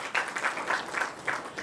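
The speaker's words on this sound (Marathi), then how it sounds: "प्रशांत मामाला एक छोट्याशा टाळ्या तर होऊनच जाऊ दे." Short burst of applause from a seated crowd at a retirement party, several quick rhythmic claps heard moderately close in a brief spell.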